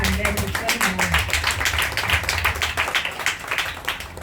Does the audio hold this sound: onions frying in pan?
no